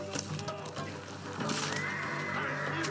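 A horse whinnies loudly in the video game Ghost of Tsushima over a busy, noisy battle backdrop, with a rising neigh near the end.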